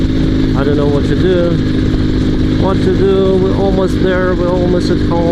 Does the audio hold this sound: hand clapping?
no